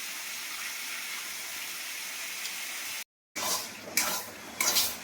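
Bombay duck (lote fish) curry with eggplant and potato is stirred in a cooking pan, giving a steady scraping and sizzling texture that breaks off briefly, then returns as louder, rhythmic scrapes close by.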